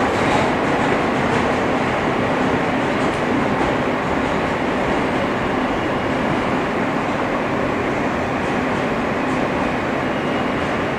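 Interior ride aboard an R160 F subway train running on the West End and 4th Avenue route in New York, a continuous loud roar of wheels and motors with faint rhythmic clatter, no voices.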